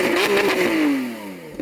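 A close, loud Lamborghini Aventador SVJ engine rev rises quickly then winds down in a long, smooth falling pitch as it settles.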